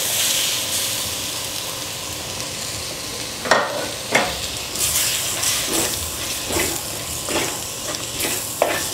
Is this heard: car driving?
no